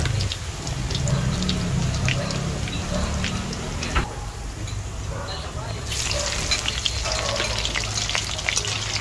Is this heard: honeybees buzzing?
no